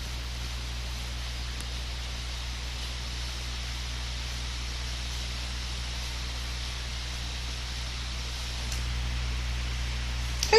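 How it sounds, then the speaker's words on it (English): A computer emits a steady low electrical hum with faint broadband hiss, unchanging for about ten seconds and heard alone without speech. "we'll stop and listen to the hum of the computer for a moment"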